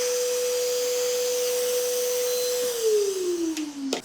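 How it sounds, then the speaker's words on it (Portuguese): An electric nail drill shaping and thinning the tip of a nail, a steady high whine that holds its pitch and then drops lower as it bears down on the nail, ending with a few faint clicks. "Vou deixar a pontinha mais fina, por isso é que estou a insistir um pouco mais com a broca."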